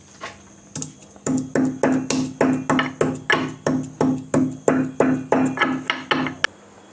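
Rhythmic pounding of ginger and masala tea spices in a mortar, a steady series of about fifteen close, sharp thuds at an even pace, with no voices.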